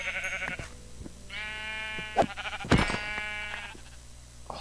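Sheep bleat in Minecraft VR, with two or three clear, wavering bleats rising over a quiet game background, accompanied by a couple of sharp hit-like thuds.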